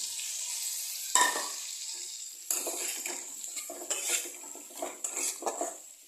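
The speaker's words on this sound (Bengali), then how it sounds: "এই আদাটা দিয়ে একটু নেড়ে আমি এখানে ভাজা করে রাখা আলু সয়াবিনগুলো দিয়ে দেবো" A spoon clinks and scrapes in a pan as ginger is stirred and fried potatoes and soya chunks go in for a vegetarian curry, with clattering bursts over a low sizzle.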